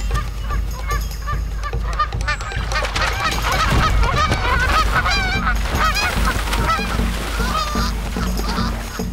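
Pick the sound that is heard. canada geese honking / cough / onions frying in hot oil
canada geese honking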